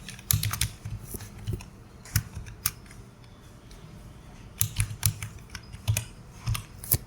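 Typing a Wi-Fi password on a computer keyboard while configuring a MikroTik RB941-2nD hAP Lite router: irregular clusters of close, crisp key clicks with short pauses between bursts, no talking.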